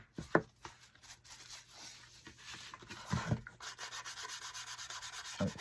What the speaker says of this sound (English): Now I'm going to put some Jolie brown wax on it.